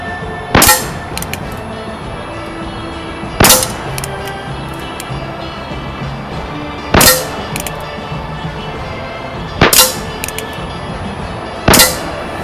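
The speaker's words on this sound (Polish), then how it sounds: "Strzelimy teraz 5 strzałów testowych" Colt revolver firing five test shots at an autumn shooting practice, each a sharp loud crack spaced about two to three seconds apart, with quiet background between them.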